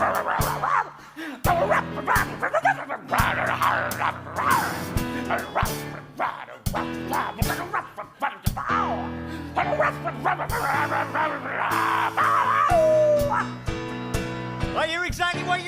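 A dog yips, barks and whimpers in repeated bursts on a live theatre stage during an improvised musical, sounding close and fairly loud over piano backing.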